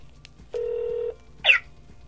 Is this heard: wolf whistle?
no